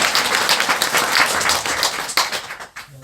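A crowd claps warmly at a Korean religious meeting after a testimony, brisk overlapping applause that stays full and bright before thinning into a few scattered final claps and fading out.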